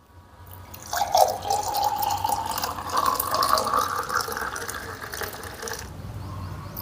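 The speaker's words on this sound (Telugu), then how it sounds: "1 కప్పు పెరుగుకి 2 కప్పుల వాటర్ యాడ్ చేసుకోండి." Water is poured from a cup into curd while making buttermilk at home, a steady trickling, filling stream that starts after a moment, runs for several seconds close to the microphone, then tapers off.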